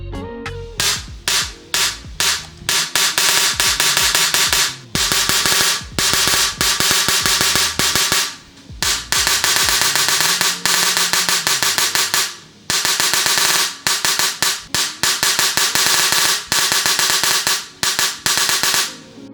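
A custom speedsoft airsoft gun, a paintball-style ESG build, test firing in long rapid-fire bursts of sharp, closely spaced shots, loud and near, separated by brief pauses.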